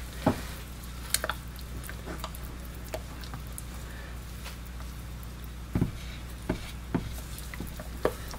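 A utensil hand-stirs soap batter in a container, making quiet scraping and rubbing strokes with occasional light taps against the side, faint and close, with no talking.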